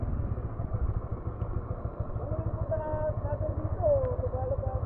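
A heavily loaded motorcycle engine chugs steadily in a low, rapid pulse through the whole stretch, close and fairly loud, with voices talking over it during a rough outdoor camping trip in Dibut, Aurora.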